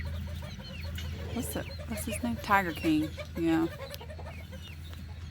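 Frizzle chickens clucking on a poultry farm, several short clucks and calls rising mid-clip over steady low background hum, with people talking nearby.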